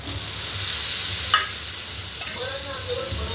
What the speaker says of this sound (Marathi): आता आपण गवार टाकून घेऊया ही भाजलेली मस्तपैकी